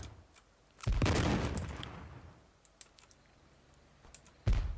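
Gunfire in the video game Theatre of War 2, a soldier in a vehicle gunner seat shooting off: two loud bursts of shots with scattered sharp cracks between them, no talking.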